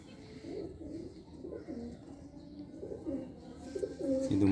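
Pigeons coo softly in a pigeon loft in low, repeated murmurs, close by but faint, with a louder flutter of sound near the end.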